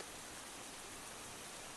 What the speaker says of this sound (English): The rain calmed at that moment, easing off to nothing but the most subtle of droplets